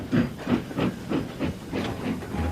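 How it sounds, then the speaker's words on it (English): Henry, a steam locomotive, chuffs away in a cloud of steam: steady rhythmic puffs of hiss, roughly three per second, close and fairly loud, with no talking. "Henry snorted away in a cloud of steam."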